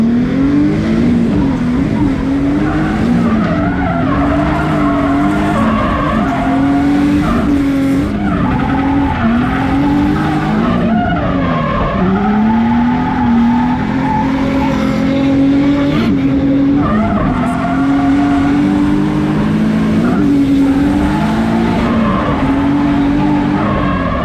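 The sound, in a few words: Nissan 350Z car driving and revving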